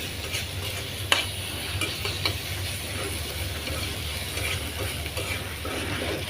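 Shrimp fry in a pan for a papaya curry with a continuous near sizzle. A spatula scrapes and clicks against the pan now and then, and nobody speaks.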